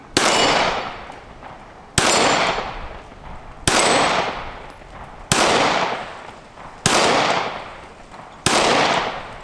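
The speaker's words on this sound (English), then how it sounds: "start out like normal on the red plates, see if I can hit anything" An IWI Masada 9S pistol fires at red steel plates: six loud, close shots spaced evenly about every two seconds, each a sharp crack followed by a ringing decay.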